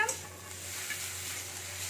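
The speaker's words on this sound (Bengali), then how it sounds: "আদাটাকেও আমি একটু ভেজে নেবো।" Crushed ginger fries in oil in a pan with a faint, steady hiss and light crackle, fairly quiet and close, with no voices over it.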